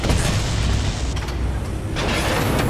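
Explosion as a radome is destroyed in the PS1 game Metal Gear Solid, a loud continuous rumbling roar filling the whole moment with a second surge of blast noise near the end.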